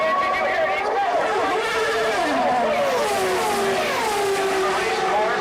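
A race car engine fires up during a pit stop at the 2000 Michigan 500 and holds a steady loud roar with rising and falling pitch, while other cars sound nearby and a commentator talks over it.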